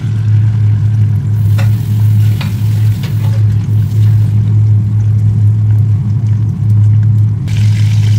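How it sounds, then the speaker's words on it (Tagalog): Chicken skin fries in olive oil in a hot pan with a steady, loud, close sizzle and crackle running the whole time. A low hum sits underneath, and no one talks. "Pag mainitin kawali, lagay na natin yung chicken skin."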